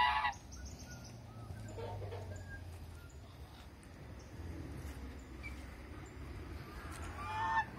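Geese honk on a farm around cattle and ducks, their calls scattered and moderately distant over steady outdoor background noise, with no talking.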